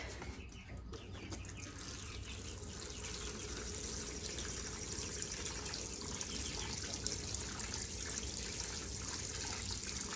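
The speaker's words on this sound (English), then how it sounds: "I water it." Water pours steadily into a potato planting container, a continuous soft splashing and trickling stream that runs unbroken throughout, fairly faint and without voices.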